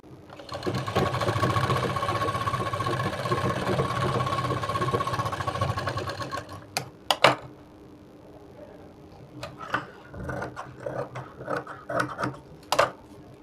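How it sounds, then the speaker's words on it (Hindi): A sewing machine stitches a folded piece of fabric onto a blouse, running in a loud continuous whir for about six seconds, then falling silent apart from scattered clicks and handling sounds. "इस तरह से ब्लाउज पे रख के मशीन चलाएंगे इस पे"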